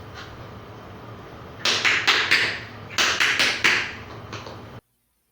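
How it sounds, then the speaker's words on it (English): Crisp tap-shoe strikes of the buffalo step, in quick clusters of about four, repeated several times over a low background hum, then cut to silence. "You want to make 4 beats or sounds when you do the buffalo."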